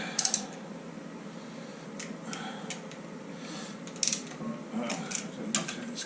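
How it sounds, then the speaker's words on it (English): A hand ratchet nips up the cylinder head bolts on a Triumph Stag engine, giving quiet clusters of quick clicks among low background noise, near and soft. "In this case I'm not tightening them up properly yet, but just nipping them up."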